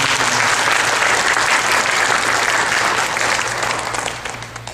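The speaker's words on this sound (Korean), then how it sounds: "우리 서로에게 축복하는 의미에서 박수 한번 부탁드립니다." A Korean church congregation gives a round of applause as a blessing to one another during a Sunday service. The clapping is full and loud, with a low steady hum beneath it, and fades slightly near the end.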